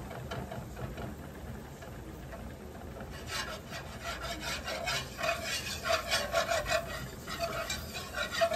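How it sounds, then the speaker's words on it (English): A whisk scrapes and stirs a butter and flour roux in a pan, quiet at first, then rhythmic, repeated scratchy strokes growing a little louder and faster over the last several seconds. "Give it a good whisk."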